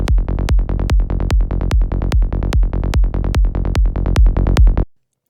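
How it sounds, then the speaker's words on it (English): A punchy synth bass from the New School preset in the Vital synthesizer, pumping with a kick drum in a steady fast pattern of loud, deep, sustained notes that cuts off abruptly at the end. "The bass is actually the second bass preset called the New School"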